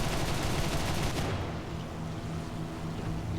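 Rapid, sustained burst of an aircraft cannon firing at a tank in a flight combat video game, a loud continuous roar that cuts off partway, leaving engine drone.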